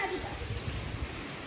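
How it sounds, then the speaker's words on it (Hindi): Rain beginning to fall on a hot summer night, a steady soft hiss of drops on surfaces, moderately faint and continuous, with a voice faintly present underneath. "देखो बारिश होने लगी"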